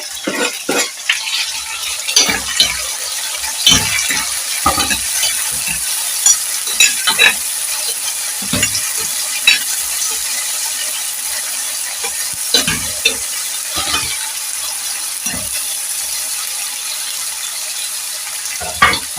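Tomatoes and carrots fry and get stirred in a pot for a green peas stew, giving a steady sizzle under repeated scraping stirs and occasional clinks of utensil on metal, close and continuous throughout.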